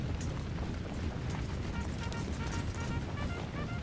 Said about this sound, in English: Ooh, some nasty artillery fire, man.